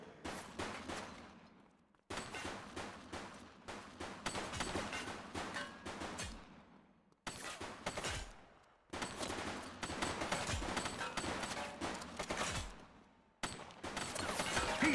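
Rapid bursts of video game gunfire crackle in a dense fusillade, with automatic volleys broken by brief silent gaps and a few heavier shots, loud and close.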